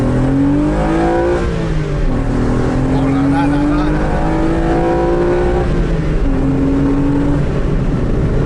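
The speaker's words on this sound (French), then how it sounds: "C'est le moteur." Renault Clio V6 engine heard from inside the car, a loud continuous drone whose pitch climbs and dips with the revs, close and sustained while a man exclaims briefly over it.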